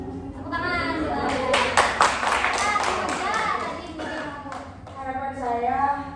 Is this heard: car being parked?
no